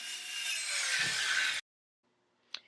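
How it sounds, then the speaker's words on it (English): A circular skill saw cuts plywood pieces for a floor repair. It makes a loud, close, whining cut that stops abruptly, followed by near silence and one faint knock. "I used a skill saw to cut each individual piece to lay in those missing parts"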